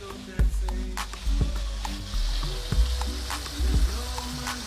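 Onions fry in a pan with a close, continuous sizzle, broken by a few sharp utensil knocks and stirring sounds.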